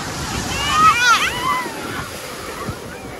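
Sea waves at Digha beach roll and wash with a broad, steady surf noise that swells in the middle, heard close, while a person talks over it.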